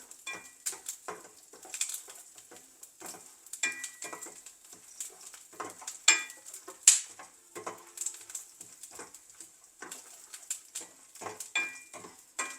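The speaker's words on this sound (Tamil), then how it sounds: "இதெல்லாம் வறுப்பட்டுட்டு" Curry leaves and spices fry in a pan for a prawn masala, with a steady soft sizzle and crackle broken by scattered utensil scrapes and small pops, and no voices.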